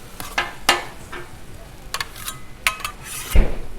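Breakfast crunchwrap fillings being flipped on a Blackstone griddle over lowered heat, with sharp spatula scrapes and clinks over a soft sizzle, in a few separate bursts.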